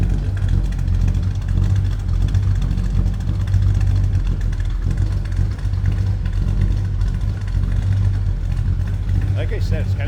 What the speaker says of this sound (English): Tell you what, this car sounds good.